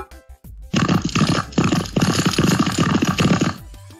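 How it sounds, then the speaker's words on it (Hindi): A dense rumble of many horses galloping together, with rough snorting and neighing calls mixed into the steady hoofbeat roar, loud and continuous for about three seconds before cutting off. "ऐसा लग रहा है कि बहुत सारे घोड़े एक साथ दौड़ रहे हैं, तो बिल्कुल सही, यह आवाज है घोड़े की।"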